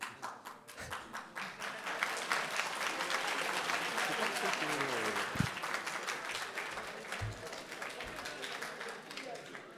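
Applause from an audience of about 200 people at a live-streamed talk on optimisation, a steady wash of many hands clapping that holds for several seconds, with a few louder individual claps and a voice speaking over it.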